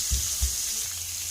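Blackened shrimp sizzle steadily in a hot pan, with a couple of soft low thumps from stirring early on.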